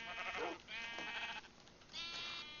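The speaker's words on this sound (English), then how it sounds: "Yes, here's the sheep babies." Baby sheep in the video game Minecraft bleat several times in quick succession, with wavering, nasal cries at a moderate level and no talking.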